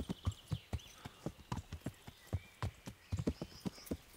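Horse hooves clop in a steady, rhythmic gait while riding in the video game Kingdom Come Deliverance, close and clear with no talking over them.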